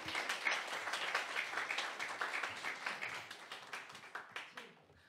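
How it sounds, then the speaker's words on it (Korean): A church congregation at a Sunday service claps to welcome a preacher: lively, dense applause that stays steady and then thins into a few scattered claps, tapering off toward the end. "박수로 한번 맞이합시다"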